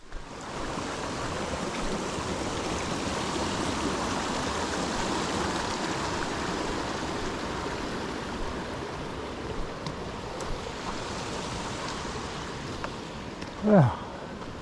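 Granite Creek along the Wonderland Trail near Mount Rainier, a steady loud rushing of stream water heard up close, broadband and continuous, with a brief whistle-like sound near the end.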